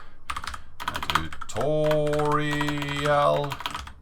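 Rapid clicking keystrokes on a computer keyboard at the Redis database tutorial prompt, close and fairly crisp, with a steady tonal voice-like sound overlapping the middle stretch.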